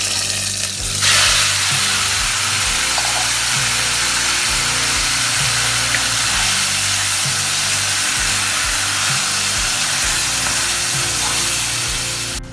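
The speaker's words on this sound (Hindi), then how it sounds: "एक पैन में ऑयल लेंगे, 2 टेबलस्पून, अब मैरिनेट किया हुआ चिकन डालेंगे" Marinated chicken frying in about two tablespoons of oil in a pan, a steady loud sizzle and crackle that holds for the whole stretch with no talking.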